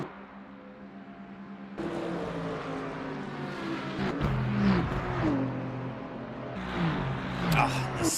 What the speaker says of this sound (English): Oh, the sound of these cars here. It's awesome. The throaty V8s, the Aston, the Lexus, the Mustangs